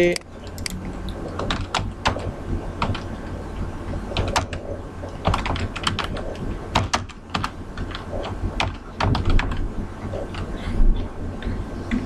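Rapid typing on a computer keyboard, clicking steadily and fairly close throughout over a faint background hum, no talk.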